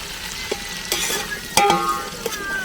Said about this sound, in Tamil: அந்த மிளகா நல்லா வதங்கினதுக்கப்புறம் கழுவி வச்ச சின்ன வெங்காயத்தையும் கொட்டி நல்லா வணக்கணுங்க